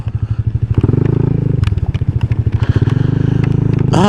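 A motorcycle crossing a bridge on the approach to Camp Aliw, its engine putting out a steady, close, pulsing putter that rises slightly in pitch, with faint clatter and a brief rev near the end.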